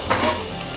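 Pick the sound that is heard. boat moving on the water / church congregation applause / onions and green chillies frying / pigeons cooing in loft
onions and green chillies frying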